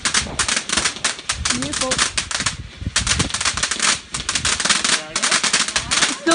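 A crackling firework on bonfire night rattles off in rapid, dense bursts of loud pops and snaps, close and continuous, with a brief remark spoken over it.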